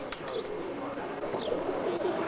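Roller pigeons give soft, low cooing calls close by, with a few brief higher chirps over a steady background hum.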